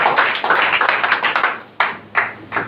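A church congregation bursts into applause to acclaim God, a dense burst of clapping that thins out into a few scattered claps near the end.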